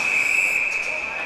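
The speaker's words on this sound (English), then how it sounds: "We've got a whistle." Referee's whistle during an ice hockey tournament game, one long sharp blast held steadily for over a second, loud and clear over the arena noise.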